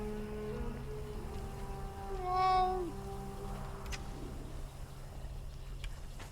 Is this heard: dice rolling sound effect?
no